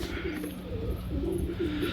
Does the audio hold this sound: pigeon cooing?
yes